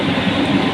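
A light rail transit train in a video game rumbles steadily, with a continuous low rolling noise close by and no talking.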